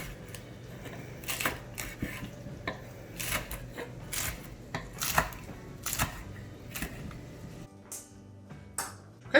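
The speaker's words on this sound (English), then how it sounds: "We're going to take these 8 slices and we're just going to roughly chop them up so that they're in smaller bite-sized pieces." Cooked bacon slices being roughly chopped with a knife on a cutting board, a steady run of close, sharp knife taps in uneven bursts, pausing briefly near the end.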